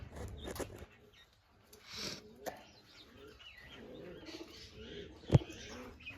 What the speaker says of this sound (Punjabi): ਚਲੋ ਨਿਕਲਿਆ ਕਬੂਤਰ ਸਾਰੇ ਬਾਹਰ